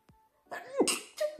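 A quick sharp intake of breath followed by a sudden explosive sneeze, close and moderately loud, with a brief muffled follow-up.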